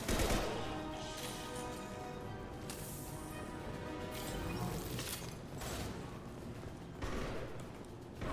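Gunfire in Mass Effect 2, with bursts of shots, mechanical clanks and several sharp, loud impacts over a busy combat backdrop, with no voice over it.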